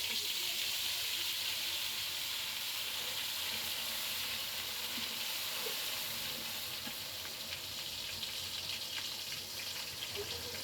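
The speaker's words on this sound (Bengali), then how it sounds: "এটা একটু তেলের মধ্যে ভেজে নিব এই আদা রসুনের পেস্টটা" Ginger-garlic paste fries in hot oil in a home kitchen, giving a steady, fairly faint sizzle and hiss that runs unbroken throughout with no talking.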